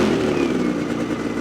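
A new 2026 Ski-Doo full-size snowmobile engine idles in break-in mode, a steady close rumble with an even mechanical hum and no revving, alone without talk.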